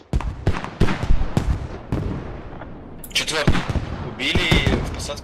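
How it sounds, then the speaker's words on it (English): Creeping artillery barrage in the shooter Squad: a series of sharp, separate booming impacts, some near and loud, spaced irregularly, with later bursts of mixed clatter and a voice briefly heard. "let's get creeping barrages going"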